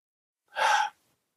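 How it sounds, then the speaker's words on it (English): A single sharp, breathy inhale, like a gasp, from the Halloween II (1981) film soundtrack, isolated and close, lasting under half a second. "Oh, breathing."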